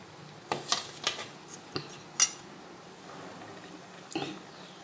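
Chili powder being stirred into a kalamkaya pickle, a few soft scraping and clinking strokes of a spoon against the pot, spaced irregularly over a quiet background.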